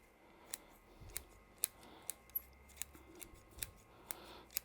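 Sharp scissors snip through Buxus Harlandii corky bark bonsai roots while the tree is repotted, giving about a dozen crisp, close cuts at a steady irregular rhythm against a quiet background.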